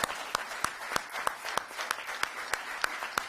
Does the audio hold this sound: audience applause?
yes